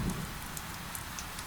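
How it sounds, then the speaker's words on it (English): Rain falls steadily as a soft, even hiss with faint scattered drop ticks, a continuous low-level patter without any voices. "The sound of rain"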